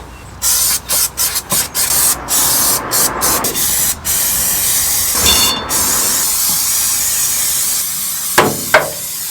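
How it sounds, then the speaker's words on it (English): Aerosol sticky-residue remover sprayed inside a 50-year-old Land Rover, heard as a string of short hissing bursts followed by a long continuous spray, close and loud, ending with a couple of clanks. "spray some sticky stuff remover"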